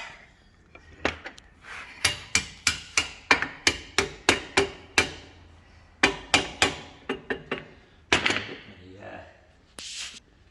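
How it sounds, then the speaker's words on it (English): Sharp, ringing copper hammer blows on metal while reconditioning a Ford F-350 differential housing, a long run of quick, evenly spaced strikes with brief pauses, close by. "Copper hammer."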